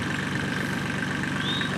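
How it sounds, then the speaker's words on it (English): A Ford tractor engine idles close by in a field, a steady low rumbling chug with even rhythmic pulses and constant loudness throughout. "A Ford tractor sitting on America soil"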